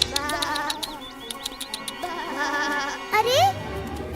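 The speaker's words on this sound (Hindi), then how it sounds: "अरे, वो मेरी भेड़ें हैं।" Sheep bleat in a cartoon scene, several wavering calls rising over a busy background with short rhythmic clicks, the loudest bleat coming near the end.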